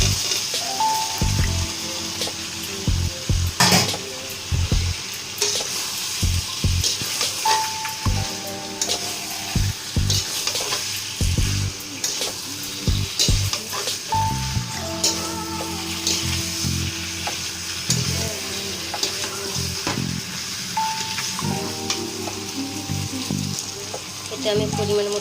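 Vegetables, fried beforehand, go into hot spiced oil and sizzle loudly and steadily up close, with scattered sharp knocks from stirring and a tonal background sound running through.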